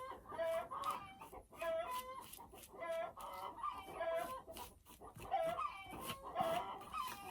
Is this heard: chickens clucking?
yes